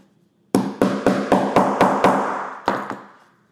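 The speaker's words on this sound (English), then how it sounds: "I'm gonna grab my tool again and I'm gonna hammer everything down." Nine sharp metallic hammer strikes on snap fasteners in quick, steady succession, close and loud, each ringing briefly before the next blow.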